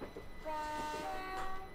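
A train arriving in a London to Brighton train simulator game, with a steady tonal horn sounding over a continuous rolling rumble of the engine and wheels, moderately loud and fairly close.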